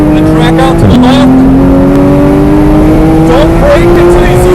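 A Porsche GT3 engine roars loud and close at full throttle on the Buttonwillow Raceway track, pitch dipping sharply on a gear change then climbing steadily, with a voice talking over it.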